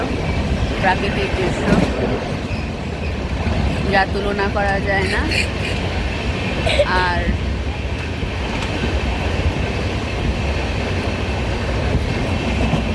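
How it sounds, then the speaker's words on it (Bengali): A moving passenger train on the Amritsar route in Punjab keeps up a steady rumble with rhythmic wheel clatter and occasional squeals. A person speaks over it from inside the carriage. "খুব সুন্দর ট্রেনটা চলছে"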